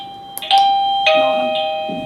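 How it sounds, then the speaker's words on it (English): A Tuya battery-powered smart video doorbell plays its chime: a brief click, then two clear electronic ding-dong tones ringing out and slowly fading, loud and close with nothing else around it. "When the visitor presses the doorbell, we will get notified immediately."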